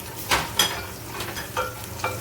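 Ground turmeric, salt and cumin seed powder fry in a pan for chickpea curry, giving a soft steady sizzle broken by a few scraping stirs of a spoon.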